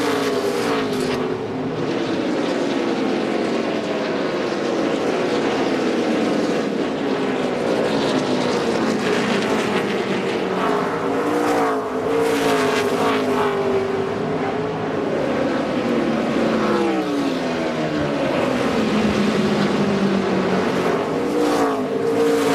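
NASCAR stock cars at the 2005 Chevy American Revolution 400 roar past in a loud, sustained engine drone, pitches sweeping up and down as cars close in and pull away in traffic.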